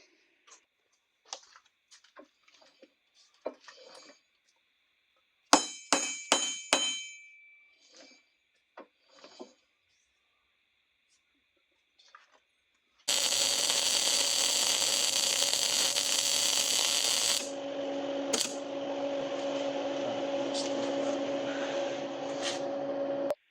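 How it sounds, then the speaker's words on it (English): Light metallic taps and clinks as a bracket is fitted onto a one-ton axle for a Jeep JK, followed by a steady, loud, continuous welding buzz that runs for about ten seconds with a slight change in tone near the end. "tack it up, same thing at this end, and then we'll weld it up"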